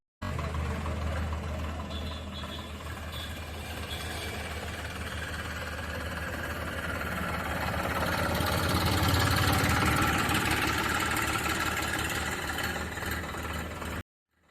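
A 50 hp Massey Ferguson 8055 Magna Trak tractor engine idles close by, a steady low rumble with a slight swell in loudness around the middle before settling back.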